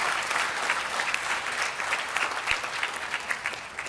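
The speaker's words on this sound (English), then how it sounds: "Doesn't that deserve an applause?" Sustained applause from a large convocation audience, dense even clapping throughout at moderate level, without speech.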